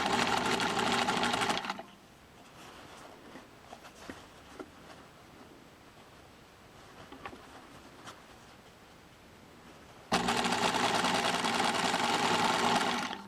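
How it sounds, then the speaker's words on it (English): A sewing machine stitches rickrack into a decorative hem facing, running in two loud, steady whirring bursts at the start and end with a quiet pause between them. "Just tuck it in and just keep sewing along."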